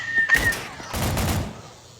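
Gunfire in a zombies shooter video game comes as two short, sharp bursts of shots close together, separated by a brief pause before fading out.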